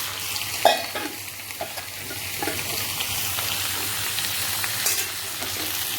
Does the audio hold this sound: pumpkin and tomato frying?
yes